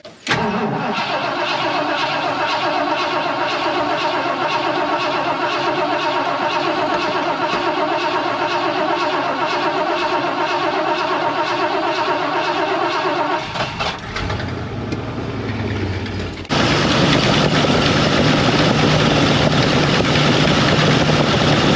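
A junkyard car with an exhaust leak runs and idles, a loud steady engine drone close to the microphone for most of the stretch, shifting tone near the end as the engine note changes.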